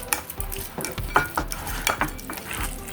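Close, clattering scrapes and taps of a utensil against a bowl as sardines are crushed for a ketchup sauce, irregular and fairly loud.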